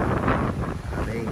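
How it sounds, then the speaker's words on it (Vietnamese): Strong early-morning wind at Ha Tien beach buffets the microphone with a loud, steady roar and gusty rumble that fills the whole short moment. "sáng sớm gió rất là mạnh"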